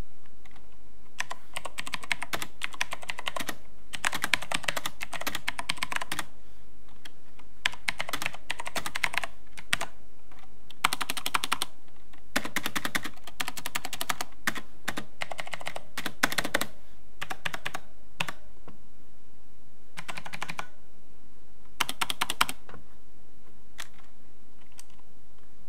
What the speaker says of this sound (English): I went for Cherry MX Blues because they offered the nice tactical click and feedback that I really wanted from a keyboard.